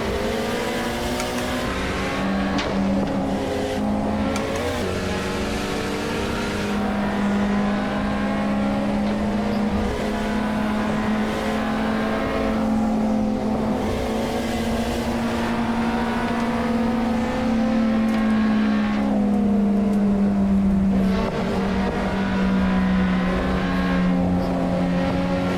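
A race car engine in the No Hesi driving game drones loudly and continuously, its pitch climbing and dropping through gear shifts and revs for the whole stretch.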